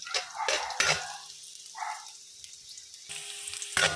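Beef browning in a hot pan: intermittent stirring scrapes and bursts of frying over a faint steady sizzle, close and moderately loud, with pan and utensil clinks and no talking.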